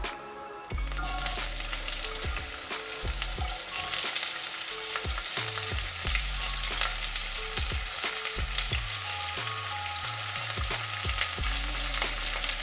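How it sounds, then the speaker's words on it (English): Chopped onions sautéing with a few chilies in a pan on a small burner, a loud steady sizzle running throughout with repeated clinks and scrapes of stirring, no talk. "just saute the onions"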